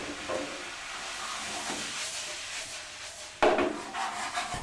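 Mushrooms and tomatoes hit a hot pan for lasagne sauce, a soft hiss and sizzle with a sharp louder burst of steamy crackle partway through, close and with no talking.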